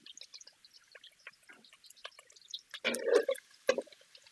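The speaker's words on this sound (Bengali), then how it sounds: "আমি দিয়ে দেব সরিষার তেল। সরিষার তেল দিয়ে দিলাম।" Mustard oil poured into a pot on the stove over chopped onion gives a close, quiet run of drips and trickles, swelling into a brief fuller pour and splash near the end.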